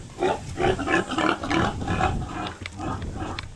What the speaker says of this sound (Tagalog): Yung mga baboy dito mga man